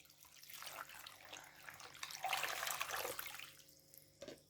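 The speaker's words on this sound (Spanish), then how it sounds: "A estos 2 kilos de cascos de guayaba le vamos a agregar 1 litro de agua." Water poured from a container onto guava shells, about two kilos of shells for guava paste, makes a soft, steady splashing pour that swells midway and then trails off, quiet and close, with no talk.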